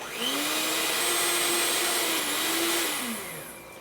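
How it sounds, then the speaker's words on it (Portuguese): A handheld electric mixer whips whipped cream for a cake, a steady loud whirring drone with a slight pitch shift midway that winds down at the end, with no talking. "E aí eu vou bater aqui, ó, somente o chantilly."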